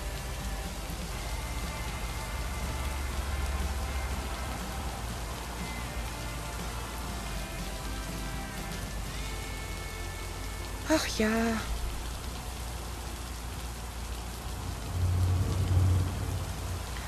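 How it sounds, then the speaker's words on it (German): Steady rain patters on a surface throughout in the game Lake, with a brief sweeping tone near the middle and someone speaking a few words softly over it. "Aber ist gut, dass mal regnet."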